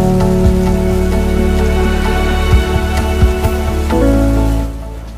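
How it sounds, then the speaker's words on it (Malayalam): Rain drumming steadily on top of a parked car among other parked cars, a dense continuous patter with a few sharper drops, loud and close, easing off in the final second. "അതും പാർക്ക് ചെയ്ത കാറുകൾക്കിടയിലെ ഒരു കാറിന് മുകളിലായിട്ട് മാത്രമാണ് ഈ വിചിത്ര മഴ പെയ്യുന്നത്."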